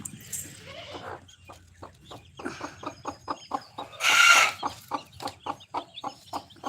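Chickens and chicks cluck steadily in a quick, pulsing rhythm close by, with one louder squawk partway through.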